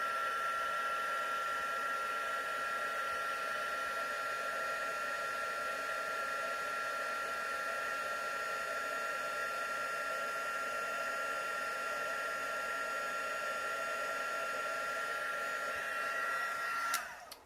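A heat embossing tool blows a continuous, steady whirring stream of hot air over a card sentiment for a long stretch at close range, then clicks off abruptly at the end.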